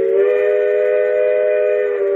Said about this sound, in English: And now I can blow the train's steam whistle.